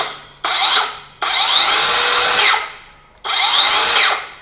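An OSUKA OCS827-M1 cordless circular saw cuts in three loud, close bursts of whining, rasping blade noise, separated by short pauses as the motor spins down, with no talking.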